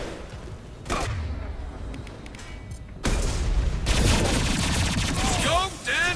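Enemy turret fire in the Mass Effect 2 video game, with a rapid burst of gunshots and booms that grows denser and louder after the first few seconds and continues through the rest.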